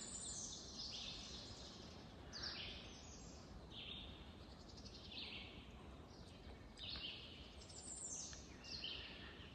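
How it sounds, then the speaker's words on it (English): Birds singing in the morning along a wooded, fern-lined Appalachian Trail section, repeated chirps and short song phrases over a soft steady background hiss, fairly distant and faint. "And listen to the birds."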